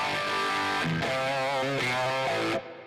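Electric guitar through a Line 6 Helix, a short distorted phrase of sustained bending notes played loudly and close, ending abruptly.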